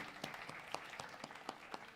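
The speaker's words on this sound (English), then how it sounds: "So let's just clap for her." A congregation at a Unity of Omaha service gives faint, scattered clapping that lands in a loose, steady rhythm, quiet and slightly distant, with no talking.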